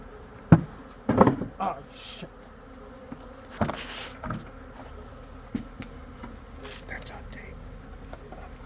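A swarm of bees buzzing close by, a thin droning hum underneath a series of loud irregular knocks and handling thumps as the insects are collected outdoors.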